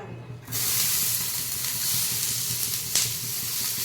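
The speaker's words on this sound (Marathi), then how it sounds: "कांदा एक छान असा आपल्याला लाल होईपर्यंत भाजायचा आहे" Onions frying in a pan until reddish-brown, a steady close sizzle and hiss that starts abruptly after a short quiet lead-in and runs continuously, with a brief louder crackle near the end.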